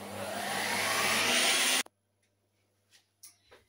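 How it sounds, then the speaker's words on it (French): Kitchen robot spinning its universal blade at speed 18 to blend sugar: a loud, close whirring roar that cuts off abruptly, followed by a few faint clicks and taps of the appliance. "je sélectionne la vitesse 18 et du coup je démarre et je vais mixer pendant à peu près 30 secondes"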